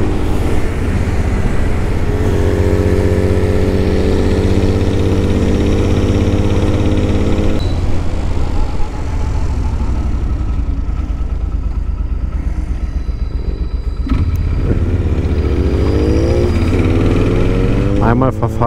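Motorcycles on a group ride-out, filmed from a 125cc Honda Rebel bobber, drone steadily at close range while someone talks over the engine noise and other bikes rise and fade as they overtake.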